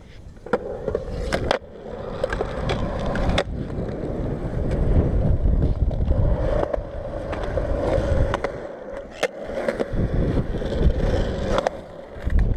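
Strong wind buffets the microphone outdoors, a continuous loud rumbling roar with gusty swells and occasional sharp knocks, dominating the whole stretch without speech.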